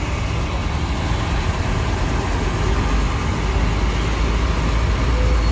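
Congested road traffic in a slow jam: a steady, dense rumble of idling and creeping engines, close and continuous throughout, with faint voices blended into the noise.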